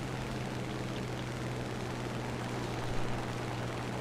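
An aircraft engine drones steadily while a plane comes in to land in War Thunder, a constant hum with a strong low tone and no voices.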